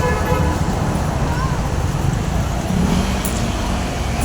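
Heavy rush-hour road traffic makes a steady, dense roar of engines and tyres, with a faint horn toot near the start.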